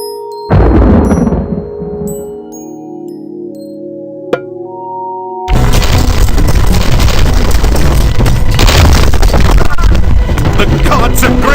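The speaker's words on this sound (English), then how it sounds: "The gods have graced us with 2 meteors!" A meteor strike in Age of Mythology hits with a loud, sustained roaring rumble that erupts suddenly after a quieter stretch of ringing chimes and a sharp click, then churns on steadily to the end.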